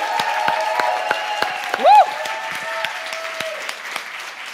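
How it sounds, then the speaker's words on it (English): An audience at an awards ceremony and media launch applauds, the clapping dense and steady, and a loud whooping cheer rises briefly midway through. "please walk her down the stairs with a cheer."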